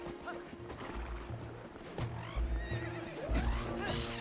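A horse in the video game The Legend of Zelda: Twilight Princess whinnies repeatedly after being hit, with hoof clip-clops and thuds of impact, a busy layered in-game soundscape.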